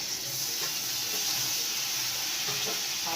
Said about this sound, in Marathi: कांदा आणि टमाटर परतायला